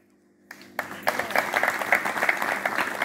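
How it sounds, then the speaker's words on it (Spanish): An audience's applause begins after a short pause with a few scattered claps, then swells into dense, continuous clapping that holds steady to the end. "quiero distinguirle con un aplauso a nuestro amigo que"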